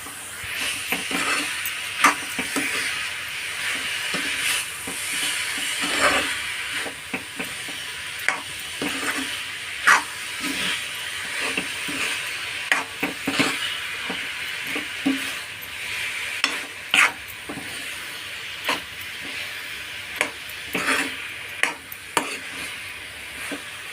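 Grated fresh coconut filling with cardamom being stirred in a pan until thick, with a continuous soft sizzle broken by frequent scraping clicks of a spoon against the metal, close and steady.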